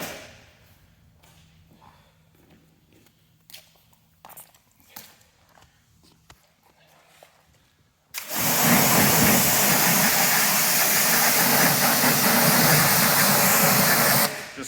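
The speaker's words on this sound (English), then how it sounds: "I'll just switch on my pressure washer and we'll rinse this down." A pressure washer starts abruptly and blasts steadily as it rinses a filthy car wheel-cleaning brush, a loud, continuous hissing spray that runs to the end after a quieter stretch of handling sounds.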